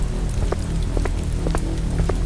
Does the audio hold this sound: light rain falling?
yes